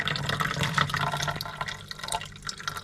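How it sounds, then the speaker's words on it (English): Hydrochloric acid poured off a batch of mined sapphire stones, a steady close splashing trickle with faint drips running continuously throughout, no talking. "So what I'll do now is just pour the acid out as much as possible."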